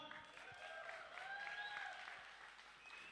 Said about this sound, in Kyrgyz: Урматтуу мекендештер, кол чабуулар.